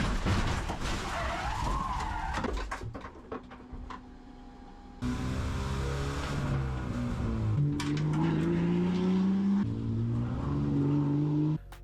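A race car spins out at the Nurburgring during an endurance race, its engine roaring loud and close with tyres skidding and squealing as the back end swings round, the engine note dropping and rising again.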